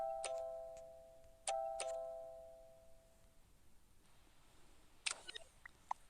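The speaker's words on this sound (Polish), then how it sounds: "O, ktoś dzwonił do drzwi." A two-tone ding-dong doorbell chimes twice in quick succession near the start, clear and fairly loud indoors, followed by quieter room sounds and a few faint clicks with no talking.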